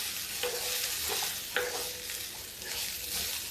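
Roasted gram flour being stirred into ridge gourd frying in a pan, a steady soft sizzle with scraping strokes of the spoon recurring every second or so, close by with no talk.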